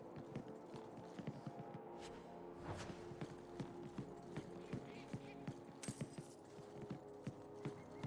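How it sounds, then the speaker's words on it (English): Footsteps on wooden planks in the video game Dragon Age 2, a steady series of hollow clip-clop thuds under a low droning background hum, quiet and close. "I like the footstep sounds when walking on planks."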